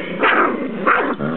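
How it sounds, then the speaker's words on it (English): A dog growls up close in two rising, rough bursts with a short pause between them, no talking. "Why is he growling at the couch?"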